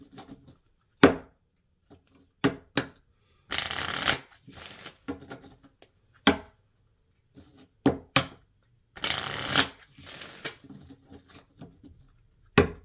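A deck of Island Time Wellness Love Oracle cards is shuffled in repeated bursts, with sharp single taps and snaps between louder riffling passages, close up and with no talking.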